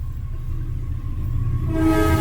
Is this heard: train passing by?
yes